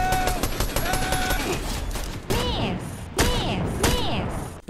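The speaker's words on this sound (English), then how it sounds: "Oh, these guns sound menacing." Rapid bursts of gunfire and impact crashes in a Fortnite Chapter 5 match, loud clustered shots with whooshing, chirping effects between volleys.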